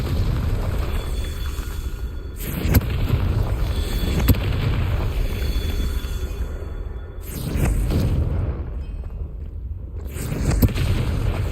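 Confringo fire spell blasts in Hogwarts Legacy, several sharp booming bursts with whooshing flare-ups standing out over a steady rumbling game background.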